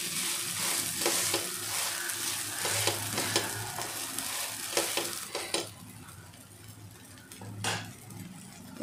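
Poha breakfast batter frying in oil in a pan, a steady close sizzle with occasional scraping and stirring clinks of a utensil against the pan, no voices.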